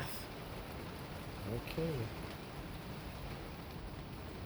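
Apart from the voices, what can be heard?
rain falling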